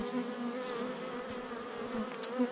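Honeybees buzz around a hive colony where queens are being marked, making a close, steady, droning hum with small swells and no voices.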